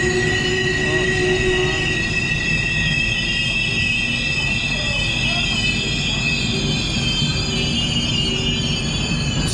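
A delayed PKP passenger train rolls into a station, a loud steady rumble with high squealing wheels and a constant hum filling the whole stretch, close by.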